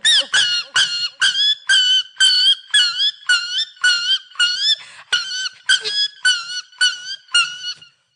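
A human voice imitates a dog yelping after being struck by stones, a rapid series of about twenty high, sharp yelps in a steady rhythm, loud and close with no other sound.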